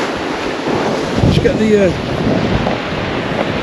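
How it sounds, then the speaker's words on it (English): Strong, steady wind buffets the microphone on the beach at Kilnsea on the East Coast, with surf rumbling beneath it, and someone speaks briefly over the roar. "I don't want this wind to affect us a lot"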